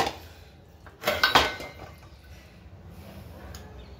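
A small bowl is set down among dishes in a home kitchen while fish curry is being prepared: a brief cluster of clattering, clinking crockery knocks in the middle of an otherwise quiet moment.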